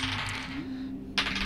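Dice rolled across a tabletop gaming table, a bright rattling clatter that settles and then gives a sharp click near the end, close and clear with no voices.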